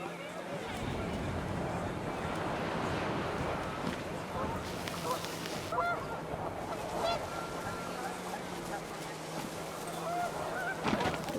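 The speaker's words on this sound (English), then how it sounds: "The wind picked up and panicked geese appeared and quickly went." Panicked geese honk in strong wind in the game What Remains of Edith Finch, scattered calls rising over a constant gusting rush, with a steady low tone underneath.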